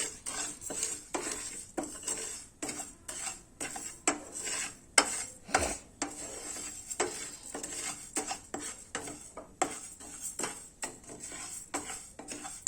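Parboiled rice dry-roasting in a pan, stirred with a utensil that scrapes and clinks against the metal in a steady rhythm, close and fairly quiet, with no sizzle or voices.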